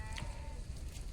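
A sheep grazing in a forest lets out a single short, close bleat over a low steady background.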